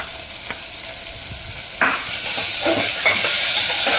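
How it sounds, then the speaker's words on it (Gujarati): Tomato goes into oil where peanuts have been frying, setting off a sudden burst of sizzle and hiss that continues with spoon stirring clatter, close and fairly loud with no talking. "હવે આપણે એમાં ટમેટું નાખશું."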